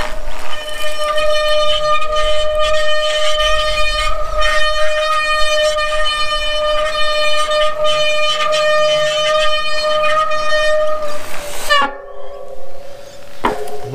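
Loud, sustained tonal squeal of bicycle disc brakes being bedded in with new pads, steady and close for about twelve seconds before cutting off abruptly.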